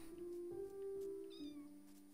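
A Minecraft cat lets out a couple of soft, drawn-out meows, quiet and close, with no talk over them.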